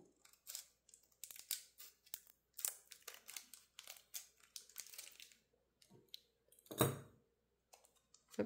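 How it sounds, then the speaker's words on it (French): Scissors snip repeatedly through a foil Pokémon card booster pack, a fast run of sharp close cuts and crinkles, ending in one louder crunch. "J'ouvre le booster à coup de ciseaux."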